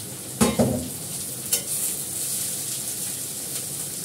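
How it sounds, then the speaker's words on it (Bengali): Potato, onion, carrot and capsicum stir-fry in a hot steel wok: a loud sizzle bursts up as the vegetables go in, a couple of sharp scraping clatters follow, then a steady frying hiss continues, with no talking. "এটাকে একসঙ্গে একটু ফ্রাই করবো"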